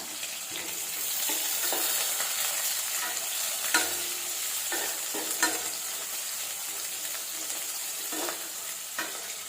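Ground onion with garlic and dried red chillies sautéing in a pan, an even close sizzle with scattered scrapes and clicks of stirring.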